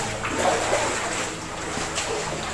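Water flows over a log at Pa Mak forest waterfall, making a steady, close rushing and trickling wash with faint splashy detail that continues without a break.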